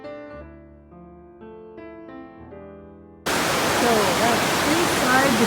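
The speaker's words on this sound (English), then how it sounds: "The cave, very noisy because of the water." Loud, steady rushing water inside a cave fills the space from about three seconds in, a broad hiss with a hollow, echoing quality, after a stretch of tonal music.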